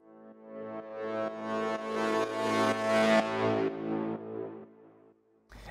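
A sustained tonal brace sample from a Kashmir sample bank, used in a beat, swells gradually to a loud peak and fades over several seconds, with a short low thump at the very end.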